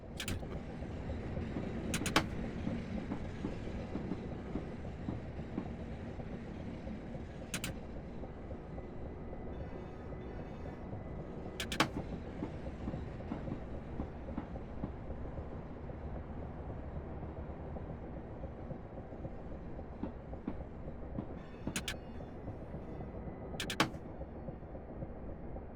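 A long steady rumble of video game trains rolling past, electric Class 375 Electrostar units on the Chatham Main Line, with low mechanical drone and occasional sharp clanks and squeals, fairly distant and continuous throughout.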